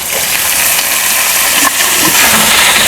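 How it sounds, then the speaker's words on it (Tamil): Chopped citron (narthangai) fries in hot oil with fenugreek, red and green chilies and curry leaves for a pachadi: a loud, steady, close sizzling hiss that runs without a break. "இந்த நார்த்தங்காயை நறுக்கி நம்ம இப்போ போட்டு இது நல்லா இந்த எண்ணெயில் நல்லா வேக வைக்கிறோம்"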